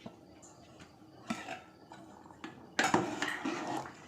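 A lid goes onto a pot of vegetable khichuri, giving a few light metallic taps and then a louder clattering clink of metal on metal nearby.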